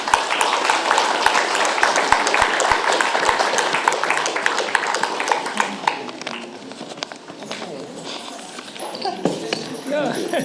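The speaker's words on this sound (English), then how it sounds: "I think they deserved a round of applause" Dense clapping from a crowd, loud at first and gradually thinning out, with scattered voices and cheers mixed in.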